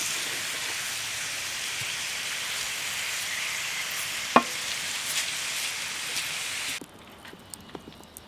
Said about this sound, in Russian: Вот так перемешиваем.